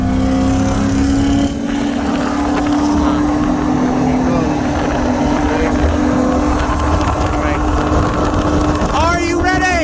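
A Porsche 911 Turbo with an XR turbo kit on 93 and meth runs against a C7 Corvette Z06 with a Magnuson 2650 supercharger in a second-gear roll from 50. A steady, loud engine drone holds throughout and climbs in pitch near the end, with talk over it.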